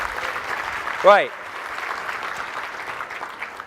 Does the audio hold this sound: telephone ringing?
no